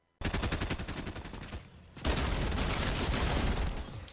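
Rapid charged SMG gunfire in the video game Fortnite, a fast, loud, continuous burst of shots that pauses briefly, then resumes as a dense, sustained stream of fire, no talking.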